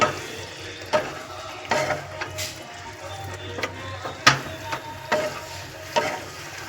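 A spoon stirs vegetarian soybean curry in a pan, scraping and knocking against the metal every second or so over a steady low sizzle, close and alone without talk.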